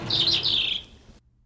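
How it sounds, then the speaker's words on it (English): A robin tweets in quick, bright chirping phrases close by, the song fading out after about a second into near silence. "leaving the sound of the robin tweeting away."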